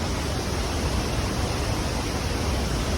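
A waterfall near La Fortuna, Costa Rica, gives a steady, close broadband rush of falling water, loud and unbroken throughout with no voices.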